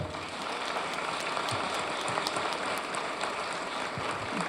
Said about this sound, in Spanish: que te den un aplauso